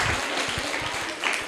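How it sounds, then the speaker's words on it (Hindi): Applause from a classroom quiz audience rewarding a correct answer, a steady wash of hand claps running throughout with no speech over it. "करेक्ट आंसर है, जोरदार तालियां"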